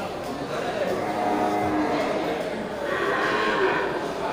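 Water buffalo at the Gelompang Payung livestock market low and moo amid a steady murmur of the crowded market, with people talking in the background.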